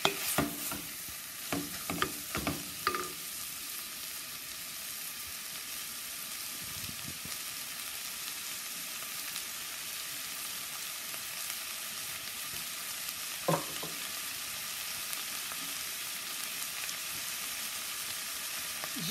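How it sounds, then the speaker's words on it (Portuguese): Minced meat frying for croquettes in a pan, a steady soft sizzle with a few scraping stirs near the start and another later, quiet and continuous throughout. "Deixa-se fritar um pouco,"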